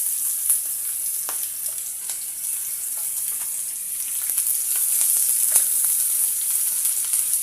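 Onions frying in a pan with toasted garlic, a steady close sizzle with scattered small crackles and pops, no talking.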